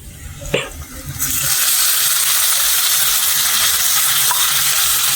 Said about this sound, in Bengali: ক্যাপসিকামটা একটু ভেজে নেবো।